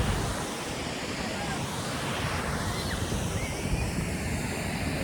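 A steady, loud roar of rushing water at a dam near Trimbakeshwar, unbroken throughout, like a heavy torrent pouring close by.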